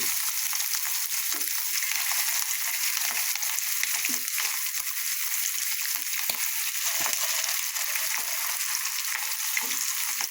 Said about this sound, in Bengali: বড়া ভাজতে খুব বেশি সময় লাগে না